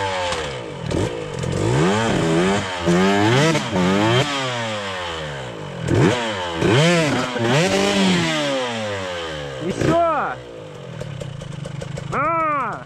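A Minsk X250 enduro motorcycle engine revs up and down repeatedly in loud, close throttle blips with idle between, while voices talk over it.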